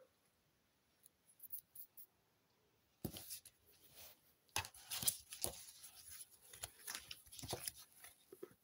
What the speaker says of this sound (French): Ici, je vais couper un peu.